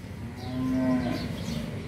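A Red Angus-cross cow for sale on a Vietnamese farm gives a single drawn-out moo, moderately close and clear over a low rumbling background with no talk.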